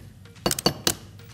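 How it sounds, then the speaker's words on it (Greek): An egg cracks against a hard edge for chocolate-apple-cinnamon filled cookies, a few quick close knocks and a sharp crack, with soft kitchen clatter around it. "Θέλω να μου σπάσεις ένα αυγό"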